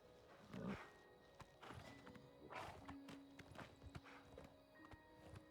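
Quiet horse hooves clip-clop in an uneven walking rhythm in the video game Oblivion Remastered, with soft thuds and a faint tonal hum in the background.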